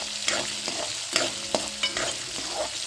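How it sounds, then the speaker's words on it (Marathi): Chickpea greens and lentils being stir-fried in a pan, with a steady sizzle broken by repeated scraping strokes of a spatula at a loose, irregular rhythm, close and moderately loud. "आता आपण सगळं परतून घेऊया आणि हो डाळ छान परतून घेऊया"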